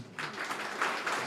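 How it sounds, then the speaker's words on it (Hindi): Audience at a school gathering applauding, a brief burst of steady, moderately loud hand clapping from many people. "इसके लिए ताली बजाओ।"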